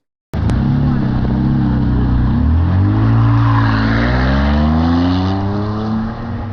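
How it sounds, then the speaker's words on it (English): A quad-turbo V12 supercar engine roars loud and close, revs climbing and falling in aggressive surges with a rough, snarling edge. "For a quad-turbo V12, it sounds surprisingly angry."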